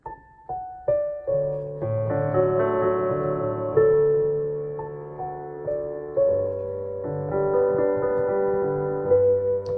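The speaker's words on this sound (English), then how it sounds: "it's a classical song. There's no singing." A slow, gentle classical instrumental melody unfolds with sustained tones and soft, spaced note onsets, with no voices.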